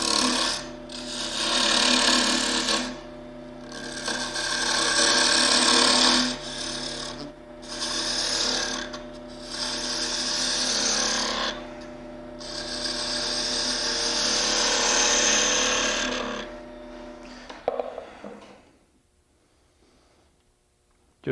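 A spindle gouge cuts into a small worry stone spinning on a wood lathe, making a steady rasping, scraping whir that swells and dips for about seventeen seconds before it stops and the lathe falls quiet.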